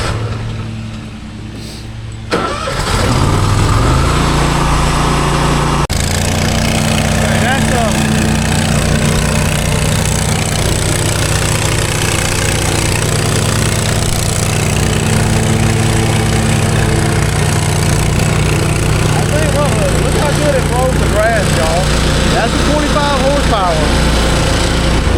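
A 25 horsepower riding lawn mower engine runs steadily close by, blowing cut grass, a loud continuous drone with a low throbbing hum that holds throughout, with sounds of people in the background.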